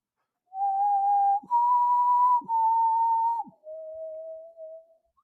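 A person whistles a short tune of four clear, sustained notes, the last one lower and trailing off, heard up close with no other sound.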